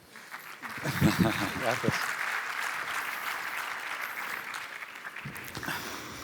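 A conference audience at the Aragón Business Summit gives a full round of applause that swells quickly and holds steady for several seconds before cutting off. A speaker talks briefly at the start.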